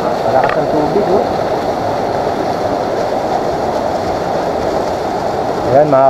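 A loud, continuous roar of a rushing river near waterfalls fills the scene, with brief voices audible at the start and end.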